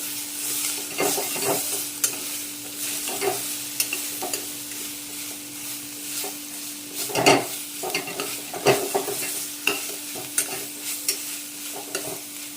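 Tomatoes with a little salt are stirred in a pressure cooker, giving repeated close scraping strokes of a spoon against the pot over a light sizzle, in an irregular rhythm with sharper knocks now and then, no voices.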